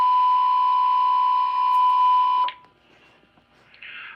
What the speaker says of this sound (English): the fire alarm system is being reset back to normal condition